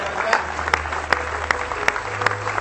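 Audience at an internet marketing conference in Las Vegas applauding, a steady wash of many hands clapping with sharp rhythmic accents roughly every 0.4 seconds over a low hum.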